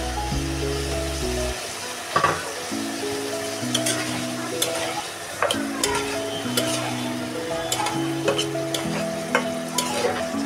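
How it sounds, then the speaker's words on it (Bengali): Tomatoes sizzle and get stirred in a frying pan, a steady close frying hiss broken by repeated scraping strokes, while a tonal hum plays underneath throughout. "টমেটোগুলো দিয়ে কষিয়ে নিব ভালো করে।"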